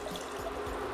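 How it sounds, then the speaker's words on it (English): Water trickles and splashes as it is poured into a pot of oxtail pieces for Jamaican curry, a short, close, steady pour with no talking. "Alright, so we're going to add that water in."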